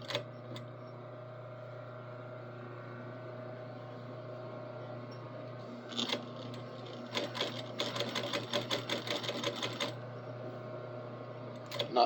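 A sewing machine stitches steadily under a constant motor hum, then speeds into a rapid run of close, rhythmic needle strikes for several seconds before easing back, heard close and alone while finishing the sides of a sewn piece.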